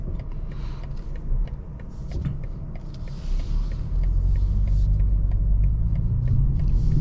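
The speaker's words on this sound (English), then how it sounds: "Get another little acceleration sport. Much quicker. We've got a lot of sport noise there." A 2024 BMW 430i Coupe M Sport accelerates in sport mode, its engine a deep, steady rumble heard from inside the cabin that grows louder and fuller through the second half.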